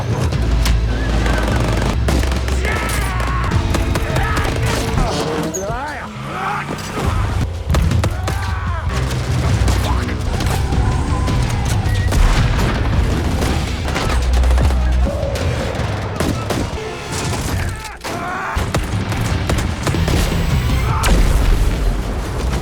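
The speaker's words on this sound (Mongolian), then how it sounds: "машин дотроос хүмүүс гарч ирээд тэдэн лөө буудаж эхэлнэ" Gunfire in an action movie scene after attackers step out of a car, with loud repeated shots and booms blended into dense music and crashing effects for the whole stretch.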